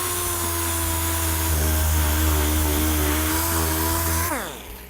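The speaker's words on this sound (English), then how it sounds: "You're gonna start with 80 grit on a DA or a grinder and just clean up the area." A dual-action sander or grinder with 80 grit abrades plastic for a cosmetic repair, a loud continuous motor whine that holds steady and then winds down at the end.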